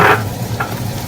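Boiled vegetables stirred into hot ghee or oil for a Korean-style dish: a loud scraping sizzle bursts at the start, then settles into a steady low frying hiss with a brief second stir.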